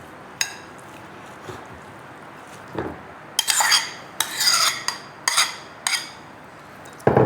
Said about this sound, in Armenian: Բաղադրիչները այսպես լավ են խառնվում, հետո նոր կավելացնենք մածունը